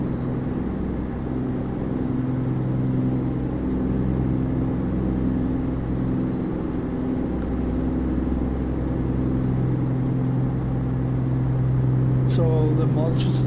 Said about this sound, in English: this Caterpillar engine sounds so beautiful. It's a little bit loud though